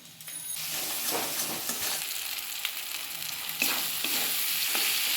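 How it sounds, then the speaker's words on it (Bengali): Jackfruit curry with chopped tomatoes and salt frying in a pan gives a continuous bright sizzle, with periodic scraping stirs and a brief metallic clink near the start. "সব কিছু ভালোভাবে ভেজে নিয়েছি"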